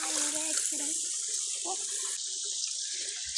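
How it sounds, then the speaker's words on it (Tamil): Tap water pouring steadily into a sink while mangoes are washed, a constant loud splashing hiss with people talking faintly underneath. "தண்ணி வருது நம்ம கழுவுறோம்."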